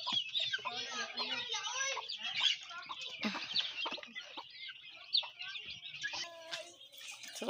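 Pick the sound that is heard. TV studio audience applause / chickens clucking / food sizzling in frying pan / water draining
chickens clucking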